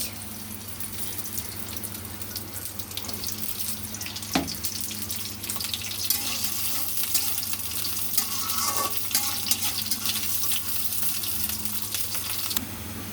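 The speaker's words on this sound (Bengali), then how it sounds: "পেঁয়াজগুলোকে এবার ভেজে নিব" Onions frying in oil in a wok, a continuous hiss of sizzling oil with occasional light scrapes and clinks of the spatula, steady and close, no speech.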